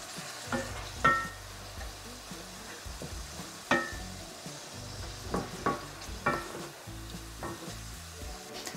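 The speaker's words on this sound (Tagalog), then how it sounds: "Haluin nyo lang." Beef shawarma strips being stirred in a pan with soy sauce and brown sugar: a steady sizzle with repeated scraping clatters of the utensil against the pan, close up and with no talking.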